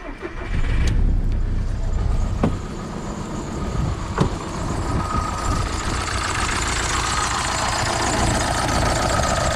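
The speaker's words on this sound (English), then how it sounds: "now I'm going to start the engine again and we are going to see how injector is working" A car engine with a replaced Siemens Continental fuel injector turns over with a few sharp clicks and catches, then settles into a steady idle that hums on to the end.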